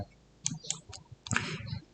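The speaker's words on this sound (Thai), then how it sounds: "แล้วก็เอาเมาส์ไปคลิกตรง เซลล์ที่เป็นตัวตั้งนะครับ" Computer mouse clicking on a spreadsheet cell in Google Sheets, a few quiet, sharp clicks scattered over two seconds, faint and close, with no talk.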